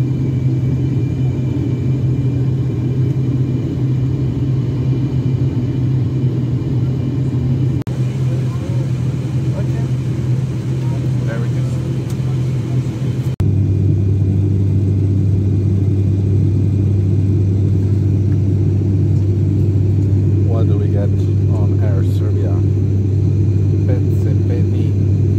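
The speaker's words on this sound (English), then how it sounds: "So it's a propeller plane. Two propeller engines." Twin propeller engines of an Air Serbia turboprop airliner in flight, heard from the cabin as a loud, constant low drone and rumble that shifts pitch partway through, with a voice talking faintly over it.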